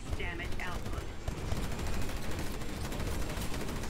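Cannon fire in the PC shooter Titanfall, a dense, continuous barrage of booming shots and bursts that stays loud throughout, with a brief higher tonal game cue near the start.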